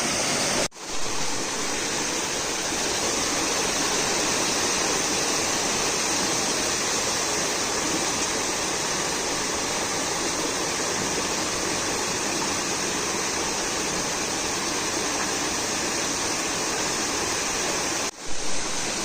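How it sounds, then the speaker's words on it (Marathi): Stream water flows past a traditional bamboo fish trap set in a dammed channel lined with plastic sheeting in a Konkan village, a loud, steady, close rushing wash with no talk. "पाण्याचा प्रवाह आहे तो थोडासा कमी झाला आहे"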